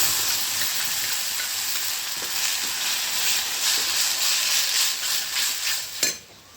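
Tomato puree with ginger-garlic paste sizzles in hot oil for a shahi cashew curry on a wood-fired chulha, a loud continuous frying hiss with faint stirring, ending in a clank.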